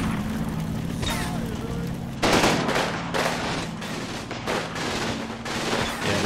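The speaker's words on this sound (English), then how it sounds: "This is the MG34, two of them." Two German MG34 machine guns firing in the World War II strategy game Combat Mission Red Thunder, in the rubble of Festung Posen: sharp bursts of automatic fire, loud and repeated after a quieter start.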